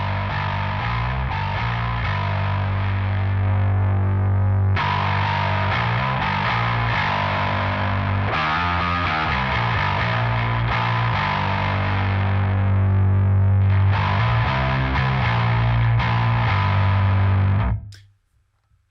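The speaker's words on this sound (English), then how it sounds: "you can use it just like a raw distortion pedal" Bass guitar runs through an Audiolithe Empress distortion pedal, playing loud, gritty sustained notes and riffs with a heavy low end for most of the passage before cutting off abruptly.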